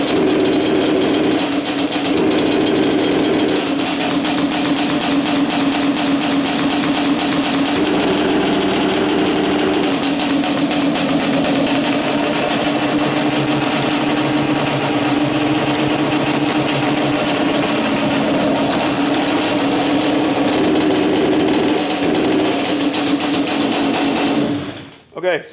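A Yamaha Banshee ATV two-stroke engine runs rough and uneven for the whole stretch, with a steady buzzing drone and rattly knocking texture, fluctuating as it is revved, close and loud before cutting off at the end.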